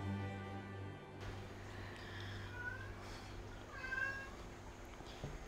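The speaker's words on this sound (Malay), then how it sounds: "See, punya kucing kan?" A cat meows two or three times, drawn-out plaintive calls over a low steady background hum, fairly close and without speech.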